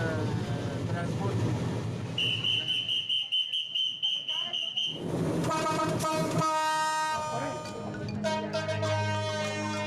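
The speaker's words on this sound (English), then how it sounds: "The train sets off on its journey, only half an hour behind schedule." A train horn sounds, then heavy rail cars clank and rumble as an Ethiopian train gets underway, loud and close.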